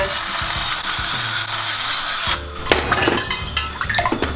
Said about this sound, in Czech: První, co uděláme, je, že si hodíme vodu na špagety